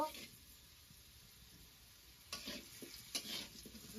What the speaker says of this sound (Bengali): ভাজা হয়ে গেছে লাল লাল করে ভেজে নিচ্ছি